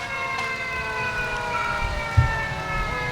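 A Village of Hoffman Estates Fire Department paramedic unit leads a Fourth of July parade, its siren holding a steady wail with a low engine rumble beneath and a brief thump partway through.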